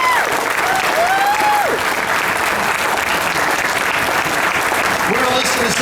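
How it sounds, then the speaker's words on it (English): A crowd cheering and clapping at an outdoor rally to save the Chicago Reader, dense sustained applause with whoops and shouts, loud and continuous throughout. "let's give an applause not just for the Chicago Reader"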